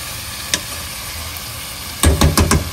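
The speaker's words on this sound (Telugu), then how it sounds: "జస్ట్ కొంచెం అలా ఆయిల్లో మటన్ ముక్క అలా వేగాలి" Mutton pieces fry in oil over high heat, a low steady sizzle that turns louder near the end with several sharp spattering bursts and clatters.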